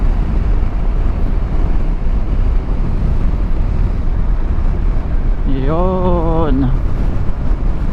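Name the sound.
strong wind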